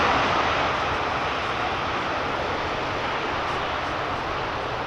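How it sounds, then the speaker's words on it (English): A C-5M Super Galaxy transport lands at an air show with thrust reversers engaged, a loud, steady broadband jet roar that holds throughout and eases off only slightly. "Spoilers are up, the thrust reversers are engaged."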